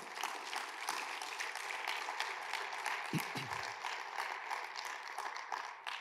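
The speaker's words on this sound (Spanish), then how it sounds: "Denle un aplauso al Señor, por favor." A church congregation applauds during a sermon, a faint but steady wash of many hands clapping, with a brief low vocal murmur partway through.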